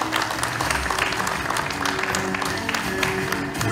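Steady, dense audience applause fills a Turkish science awards ceremony as an assistant professor is invited to the stage, loud and continuous throughout.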